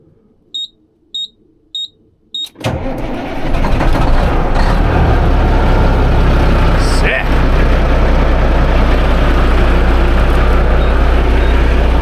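Four short electronic beeps, then a heavy truck engine with Rockwell running gear cranks and catches, settling into a loud, steady diesel rumble that runs on.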